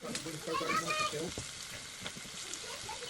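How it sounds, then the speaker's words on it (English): Chicken wings frying in oil in a pan for adobo, a steady close sizzle and crackle throughout with a brief murmur of voice near the start. "So we have to fry until golden brown and then flip it over before we put our sauce."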